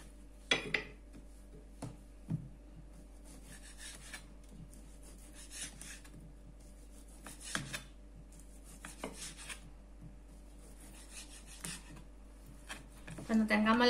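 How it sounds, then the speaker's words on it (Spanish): A knife slices chorizo into rounds on a board in a home kitchen, sparse soft taps and scrapes at irregular intervals, quiet and close under a low background hum, with someone talking at times. "mientras vamos cortando el choricito a rodajitas"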